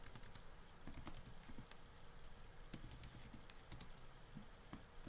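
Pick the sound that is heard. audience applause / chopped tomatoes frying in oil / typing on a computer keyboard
typing on a computer keyboard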